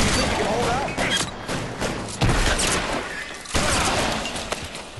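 A shootout in LA Noire, with repeated gunshots cracking in quick succession over a dense, noisy background, each loud impact spaced a second or so apart.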